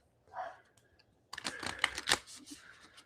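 A yoga oracle card deck is shuffled close by: a soft rustle, then a quick burst of crisp riffling card clicks, heard alone.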